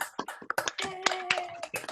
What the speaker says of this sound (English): I think we ought to give all the candidates, including Mark Kelly, a round of applause.